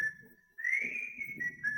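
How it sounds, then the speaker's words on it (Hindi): A man whistles as he approaches, a thin sustained tune that starts quietly, grows louder and slides in pitch, with a soft ambient rumble beneath. "वो आ रहा कमीना सीटी बजाता हुआ"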